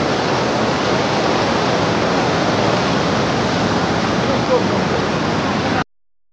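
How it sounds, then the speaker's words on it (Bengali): A powerful waterfall near Pelling in Sikkim roars close by, a steady, loud, dense rush of falling water that runs unbroken until it cuts off abruptly near the end. "সামনে জলটা এত ফোর্সে পড়ছে, আর জলের ঝাঁট দিয়ে এত জোরে আসছে, পুরো চান করিয়ে দিচ্ছে।"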